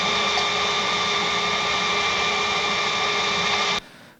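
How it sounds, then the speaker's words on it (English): An IBM 1403 line printer runs in a dense, steady mechanical roar with layered tonal whine, loud and continuous until it cuts off abruptly near the end. "So this is an IBM 1403 printer, and when the printing process making so much like ambient sound."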